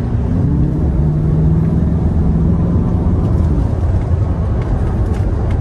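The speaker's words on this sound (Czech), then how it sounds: "počuť, jak ten plňací tlak turba dostanú, že je tam takýto trošku ten svist" A Bentley Arnage T's turbocharged engine drones loudly and steadily from inside the car under boost, with a faint whistle rising over the low rumble; no talk.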